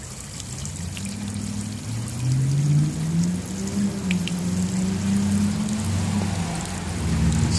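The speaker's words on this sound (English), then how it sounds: "See the water flowing through" Water pours steadily out of a homemade counterflow chiller coil under gravity, a continuous close splashing trickle with a low gurgling undertone that swells slightly in the middle.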